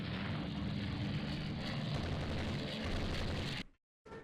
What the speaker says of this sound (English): Some light hits, some light gunnery fire, torpedo bombers.